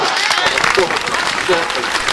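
Audience applause at a national Hindi poetry gathering (Kavi Sammelan) in Delhi, a dense, steady clatter of clapping from a crowd that fills the whole short stretch, with voices mixed in.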